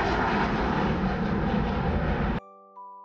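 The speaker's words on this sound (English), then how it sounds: "I see an aeroplane." An aeroplane flies overhead with a loud, steady jet roar for about two seconds, then cuts off abruptly into a few soft chime tones.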